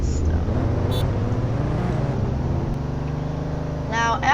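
A car engine in the Roblox game Greenville, a steady loud droning hum held throughout, with brief voice fragments over it.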